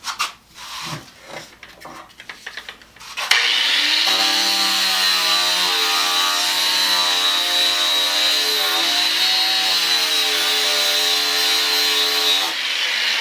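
A loud steady whine from a Hitachi 9-inch angle grinder with a dull sanding disc on wood, grinding and rasping, runs for about nine seconds after a few scraping knocks, then cuts off.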